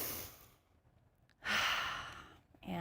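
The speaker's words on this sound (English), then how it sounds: "let's take a deep breath." A deep collective breath taken during a new moon meditation ceremony: a slow audible inhale, a short pause, then a long, soft sighing exhale, close and quiet with no speech.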